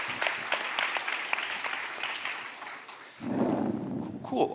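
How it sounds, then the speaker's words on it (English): Clapping from a conference audience after a technical demo at Cosmoverse 2023 rattles along at moderate volume for about three seconds, then gives way to a single speaker talking close up. "I'm clapping. You don't have to clap. I'm clapping."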